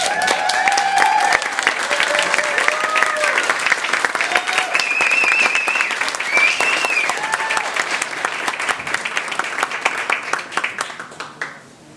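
An audience at a senior recital breaks into sustained, loud applause welcoming the performer, dense clapping that holds steady for several seconds before tapering off at the end, with a few voices mixed in.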